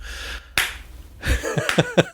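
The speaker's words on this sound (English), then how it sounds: "So slow clap for that one." A few slow, deliberate hand claps, spaced unevenly and sharp, close by in a quiet room, with no talk over them.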